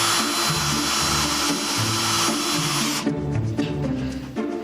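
Power drill driving screws into drywall, a loud steady whine with shifting pitch steps for about three seconds, then stopping into lighter rattling and handling noise.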